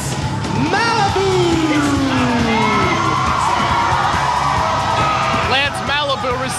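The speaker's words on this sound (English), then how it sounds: "receiving a huge ovation from this capacity crowd" A capacity professional wrestling crowd roars and cheers loudly throughout a wrestler's entrance, with whoops and shouts rising over a steady dense wall of noise and an announcer-style voice partly audible.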